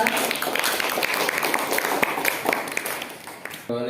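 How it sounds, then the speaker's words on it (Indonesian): Applause from a classroom audience for a student group presenting, a dense patter of clapping hands that holds steady and then cuts off near the end. "Beri aplaus untuk kelompok 2"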